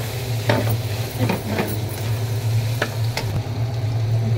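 Chopped onion and green chili hitting hot oil in a frying pan while cooking a pizza topping, giving a steady close sizzle with scattered scraping stir clicks over a low kitchen hum.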